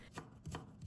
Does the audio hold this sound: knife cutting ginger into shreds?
yes